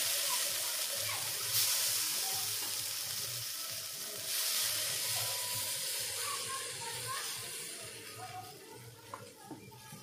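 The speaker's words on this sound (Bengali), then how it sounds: "এবার সাইডগুলোতে জলের ছিটা দিয়ে দিচ্ছি।" Water splashed around the edges of a covered pan of chitoi pitha, a rice cake made from ground store-bought atop rice, sizzling and hissing loudly and steadily, easing slightly toward the end.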